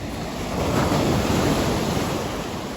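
Sea waves breaking on the shore in Trabzon make a steady, full roar of surf with wind rushing across the microphone, continuous and fairly loud, with no voices.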